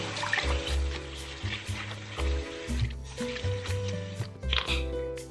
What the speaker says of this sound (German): ich werde meine Bluse werde ich jetzt hier erstmal in so lauwarmem Wasser waschen mit einem alten Shampoo